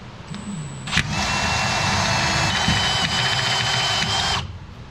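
A power drill drilling off a bolt head on a 2007-2013 Silverado bumper whirs steadily for several seconds, loud and close, starting abruptly and cutting off at the end.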